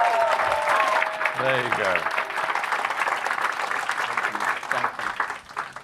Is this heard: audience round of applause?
yes